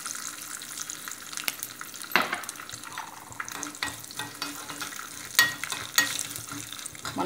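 Chana dal and turmeric tempering in hot oil, a soft continuous sizzle with scattered light scraping and stirring clicks close by, occasional sharper ticks, no talking.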